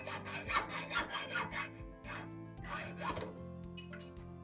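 Rhythmic back-and-forth sawing strokes, close and fairly quiet, as a blade cuts through a tube.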